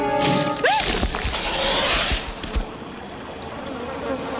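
Swamp insects buzz loudly in an animated Sonic the Hedgehog cartoon scene, mixed with whooshing cartoon effects and a few thuds, with no talking.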